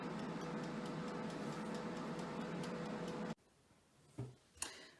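Steady mechanical ticking from the timer of a Farberware oil-less air fryer runs under a constant whir, then cuts off abruptly, leaving near quiet broken by a couple of soft knocks.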